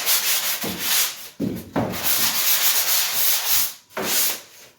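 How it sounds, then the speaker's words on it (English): Joint compound being sanded along an inside three-way drywall corner: close, steady brushing and scraping strokes in a continuous rhythm with a few short pauses, and no talking. "when you're sanding out the three-way here, because it's just a quick brush, you don't have to go deep into the angle."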